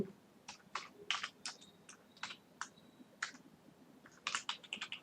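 Keys clatter on a computer keyboard as a name is typed, quiet irregular bursts of clicks with short pauses between groups of keystrokes, close and alone.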